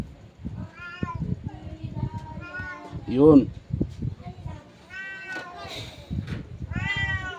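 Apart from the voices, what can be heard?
cat meowing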